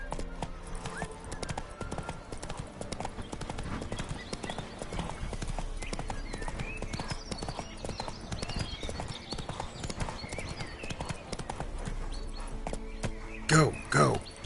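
Roach, a horse in a Witcher video game, clip-clops along at a steady trot, hooves tapping in a quick rhythm at moderate volume, with a brief louder flurry near the end.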